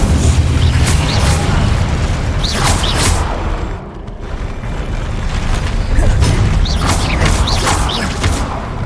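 An Incendio fire spell cast in the video game Hogwarts Legacy roars as a loud, continuous rumbling blast, with crackling bursts layered over deep booming, briefly dipping before surging again.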